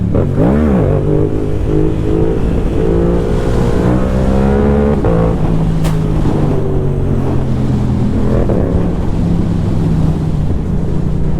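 A Yamaha R7 motorcycle engine revving loudly at night, with a close, sustained drone that climbs and falls in pitch through repeated rev swings and wind rushing over the microphone.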